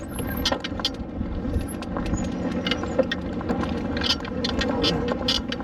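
AIPAS M2 Pro e-bike rolling over sand under pedal assist level 5, a steady rough rumbling whir with light rattles, close and continuous.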